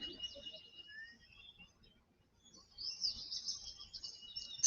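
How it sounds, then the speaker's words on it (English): Birds chirp faintly on a played-back recording, a thin distant twittering that drops out briefly in the middle and returns a little stronger toward the end. "I love the birds chirping."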